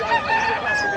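Chabo bantam rooster crowing at a busy pet market, a single sustained crow close by with a bright harmonic tone over faint background chatter.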